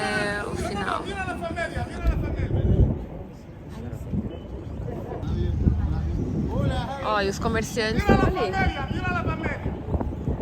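Strong wind buffets the microphone beside the Nile on a cruise-ship tour in Egypt, a low, gusty rumble running continuously under a man's close, ongoing talk.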